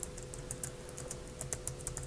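Rapid, even typing on a computer keyboard, with crisp clicky keystrokes in a steady run over a low background hum, close and with no talking.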